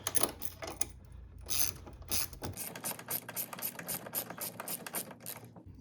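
A ratchet wrench tightens a steering stabilizer bracket bolt, giving rapid, close clicking in repeated bursts with brief pauses between strokes.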